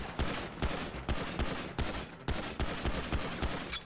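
Rapid bursts of video game gunfire from a GTA V Online deathmatch, repeated shots cracking in a steady rhythm of volleys, loud and close with no talk over them.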